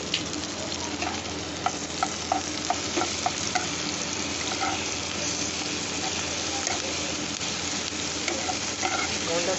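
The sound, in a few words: ginger onion garlic paste frying in pan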